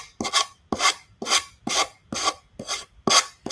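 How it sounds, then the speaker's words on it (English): A sanding block rasps along the edges of a handmade item in eight rhythmic back-and-forth strokes, close and fairly loud, with no talking. "we can take our sanding block and then just sand the edges"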